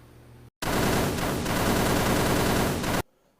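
Continuous machine-gun fire and explosive blasts from the 1991 Data East run-and-gun arcade game Desert Assault, a loud, dense burst that starts abruptly, rattles on for about two and a half seconds, then cuts out.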